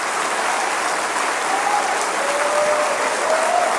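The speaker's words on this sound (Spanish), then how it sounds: "Dale otro aplauso al Señor." A church congregation applauds steadily, with dense clapping that holds at an even level for a few seconds and has no talking over it.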